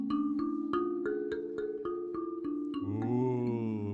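An mbira retuned with a blob of blue tack on one tine plays a harmonic major scale. Evenly spaced, bell-like plucked notes ring close and soft, and a lower sustained tone swells near the end. No one speaks.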